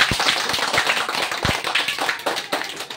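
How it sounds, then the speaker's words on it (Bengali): Students applauding exam results, a brief burst of close, steady clapping from a small group, lively and uneven, with no voices over it. "ওই হাততালি একটা জোরদার।"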